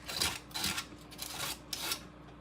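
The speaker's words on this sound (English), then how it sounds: "you can also take some 220 grit sandpaper and smooth the edges" Edges of a 3D printed model rubbed with 220 grit sandpaper, giving four or five quiet rhythmic scratchy strokes, each a short rasp, close by and faint.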